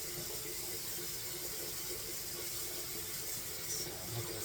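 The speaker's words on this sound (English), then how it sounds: "let this water warm up a little bit and we'll wash our face" Tap water running steadily into a sink as it warms up for face washing, a constant close hiss with no talking.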